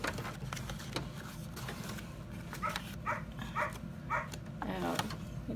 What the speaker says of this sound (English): the dog is having a fit